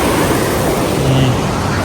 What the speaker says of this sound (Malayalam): ഇവിടെ ഈ കാണുന്ന പുഴയാ